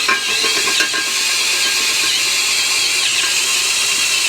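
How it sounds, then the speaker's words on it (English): PB Blaster cutting oil sprays from a can, a loud, steady hiss close by that runs without a break, with no talk over it. "Little spritz of the good stuff. Yo, PB Blaster is a great cutting oil."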